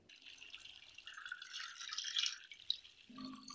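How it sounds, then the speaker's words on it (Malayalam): Water is poured over tapioca in a pot for boiling in a home kitchen. The splashing and trickling swell in the middle, then thin out into faint drips, heard close and without talk. "ആദ്യമേ ഈ കപ്പയൊന്ന് വെള്ളമൊഴിച്ച് വേകാൻ വെക്കാം"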